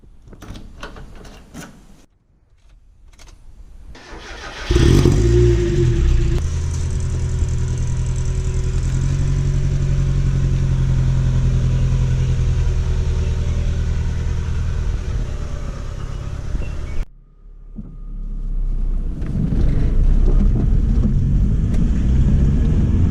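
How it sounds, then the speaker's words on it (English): Mazda MX-5 engine starting and running steadily while driving, a loud sustained low rumble with a brief drop near the end before picking back up, with no talk. "today we're taking the Mx5 for a ride"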